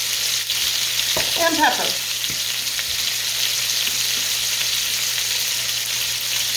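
Hamburger steaks frying in a pan with a steady, close sizzle that holds throughout, while a person speaks briefly near the start.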